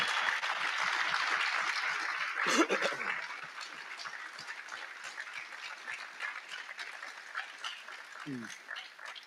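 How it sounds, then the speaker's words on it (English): Applause from an audience at a panel discussion on affirmative action, fairly soft and thinning out after a louder burst early on, with a brief voice or laugh breaking through near the start and again toward the end. "a generous round of applause for Tavis Smiley and Ian Rowe"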